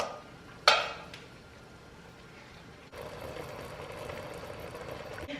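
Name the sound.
browned beef moved to a bowl, vegetables added to the pot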